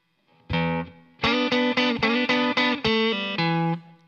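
Electric guitar plays measure 15 of a song, a run of distorted, chorus-tinged picked notes and double stops in a steady, punchy rhythm, close and alone with no talking.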